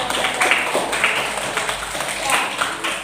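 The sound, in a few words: audience applause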